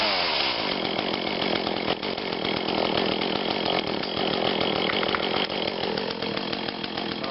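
An Echo CS 400 chainsaw running after a cold start, a loud continuous two-stroke engine whine held close and steady throughout, with no voices over it.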